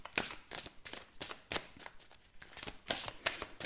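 Tarot cards are shuffled by hand in a quick, irregular run of crisp riffling bursts, close and fairly quiet, with nothing else heard.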